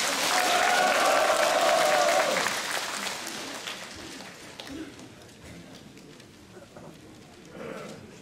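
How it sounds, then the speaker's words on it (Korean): Loud crowd applause and cheering at a political rally in Busan for a couple of seconds, then fading into a quieter, murmuring outdoor crowd with scattered claps. "여러분 뜨거운 함성과 애국의 박수로서 서정갑 본부장을 맞이하시기 바랍니다."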